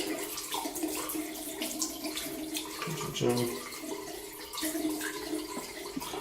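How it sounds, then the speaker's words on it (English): Hot water runs and splashes into a basin at close range, a steady broadband rush with some clinks and faint background voice. "let's get a basin full of hot water, shall we?"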